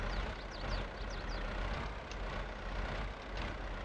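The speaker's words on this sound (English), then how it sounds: "I do love the sound of this tractor, if you guys are hearing that" Farming Simulator 22 tractor engine, a low steady drone that rises and falls as the throttle is worked on and off. It runs alone and fairly quiet, with a few faint tonal whistles over the top.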